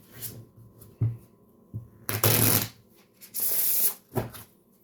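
A deck of playing cards is shuffled by a card dealer at an Ultimate Texas Hold'em table. Two loud, close riffling bursts come between softer taps and knocks as the cards are handled, and no one speaks.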